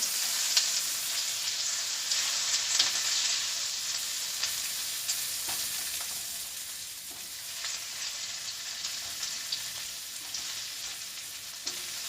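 Onion stir-frying in a hot pan gives a steady, close sizzle with faint crackles and soft scraping from stirring, continuous throughout with no voices.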